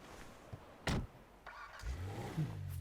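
In GTA 5, a car's starter cranks briefly and the engine catches, settling into a low idle after a couple of soft thumps, fairly quiet and close.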